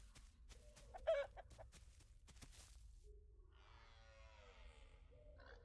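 Chicken in a video game: a few quiet clucks and a short squawk close by, over a faint background hum. Other soft chirping and warbling calls follow, and there is no talk.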